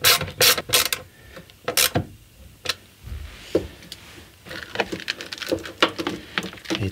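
A hand ratchet fitted with a 7 mm socket clicks in short bursts as it drives a screw down through paint to make an electrical ground contact. The clicking is close and uneven, with pauses and some handling noise between strokes.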